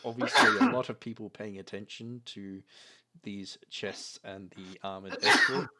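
A sharp sneeze bursts out at the start and another near the end, close by, breaking into a stretch of steady talking.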